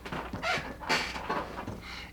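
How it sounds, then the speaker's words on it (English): An office swivel chair gives a few faint, drawn-out squeaks and creaks as it shifts, close by in a quiet room. "You don't usually hear this chair during these videos"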